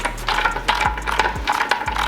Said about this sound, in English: We'll get a ratchet on that.